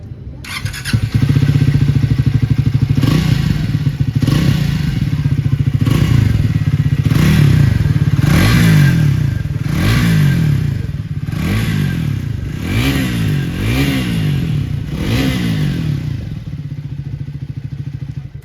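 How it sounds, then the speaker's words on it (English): Triumph Speed 400 motorcycle revving repeatedly, loud and close, each throttle blip rising and falling over a steady idle in a regular rhythm of about a dozen revs. "Now let's listen to the Speed 400's exhaust note."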